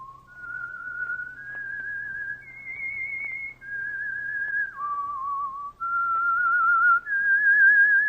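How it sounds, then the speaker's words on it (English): A clear, solo whistled melody, the theme of The Whistler radio program, moving through several sustained, stepwise notes over a faint low hum, close and steady with no talking. "That whistle is your signal for the Signal Oil program, The Whistler."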